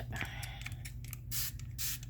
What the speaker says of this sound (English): almost out of water in my spray bottle